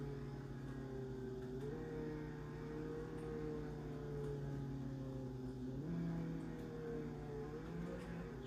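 A car engine in the Roblox game Jailbreak drives steadily into a big city, its droning tone rising and shifting as it revs and changes speed, loud and continuous throughout with no talk.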